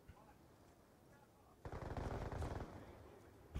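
Rapid automatic gunfire in an online shooter video game, a dense burst of shots starting suddenly partway through and running loud to the end, with fainter game noise before it.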